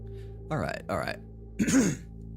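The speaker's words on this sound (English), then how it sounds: "give me a moment to quickly clear my throat again" Throat clearing by a streamer during a Monster Hunter live session, two short rasping bursts and then a third, heavier rough clear, close and fairly loud against a low steady hum.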